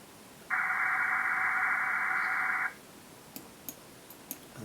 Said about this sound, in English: you'll hear a sound like this one